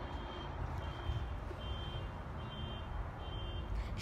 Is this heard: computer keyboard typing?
no